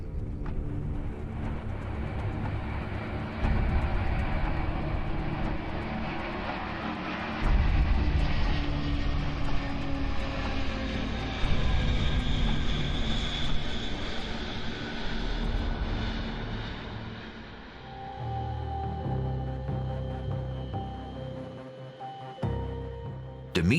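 The six jet engines of an Antonov An-225 roar and whine, a loud, sustained drone that swells and shifts in pitch before easing toward the end.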